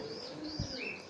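Pink Shatim pigeons at a pigeon farm, a single short low coo heard close by over a steady background hiss.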